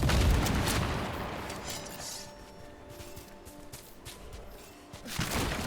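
A detonation in the fantasy action game Dragon Age: The Veilguard bursts with a loud boom at the start and decays into a rumbling tail, with a second, smaller impact near the end.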